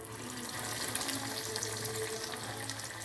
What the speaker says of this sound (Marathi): अशा प्रकारे सगळे तळून घेऊ.